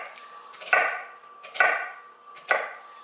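Knife chopping a large onion into dice on a cutting board: three sharp, evenly spaced thuds about a second apart, each with a brief crisp slicing rasp, close and clear with no talk.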